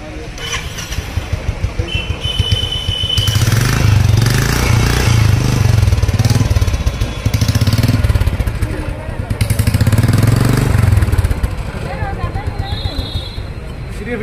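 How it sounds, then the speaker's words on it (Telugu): Bullet motorcycles with modified silencers, seized by police in Nandyal for loud noise, rev and idle close by in heavy, pulsing thumps, their engine bursts rising and falling in waves alongside background voices. "దూసుకుపోతూ పెద్ద పెద్ద సౌండ్స్ చేస్తూ ఇబ్బందులకు గురి చేస్తున్న బుల్లెట్ బైకులు పట్టుకోవడం జరిగింది."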